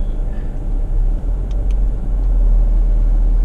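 Low, steady rumble of a car engine as the vehicle creeps forward on a drive-through safari among zebras, close and continuous with no talking.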